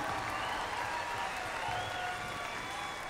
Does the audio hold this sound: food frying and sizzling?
no